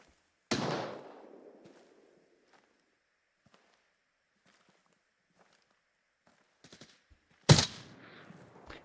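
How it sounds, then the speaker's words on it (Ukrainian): Gunfire in the shooter game Arena Breakout Infinite: two sharp, loud reports about seven seconds apart, each ringing briefly, with faint scattered clicks and taps in the quiet between them. "Бо чути постріли, але їх дуже близько чути."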